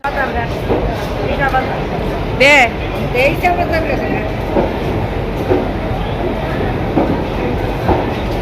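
A train pulls out of a railway station, a steady rumble with a brief whistle-like tone partway through, while people talk nearby.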